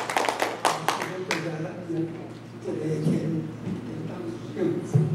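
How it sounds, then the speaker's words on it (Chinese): An audience at an elders' forum at a Taiwanese community center in Los Angeles gives a short burst of applause at the start, then the clapping gives way to a person speaking. "来，我们掌声欢迎，"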